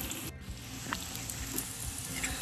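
Cauliflower and other vegetables for poha sauté in a pan, giving a soft, steady sizzle with an occasional faint stir or tap, fairly quiet and with no one talking.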